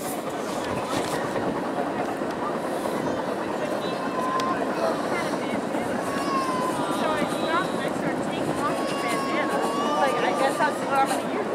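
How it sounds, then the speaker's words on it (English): A CSX freight train with a single locomotive pulls a long string of tank cars past on the River Subdivision at Highland, New York, heard from a walkway above. It gives a steady, loud rumble with squealing wheels, and onlookers talk over it. "So it's just one engine and a bunch of tankers."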